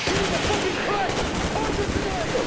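Gunfire in the video game Metro Exodus, a steady stream of rapid shots under a dense wash of game noise, moderately loud throughout the short burst.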